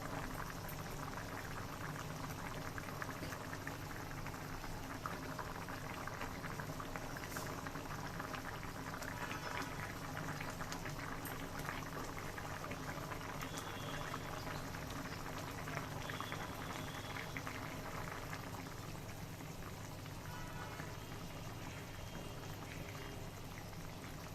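Thin hilsa fish curry with a nigella-seed tempering boils steadily in a pot, a dense continuous bubbling and gurgling that stays even and close for the whole stretch, with no voices.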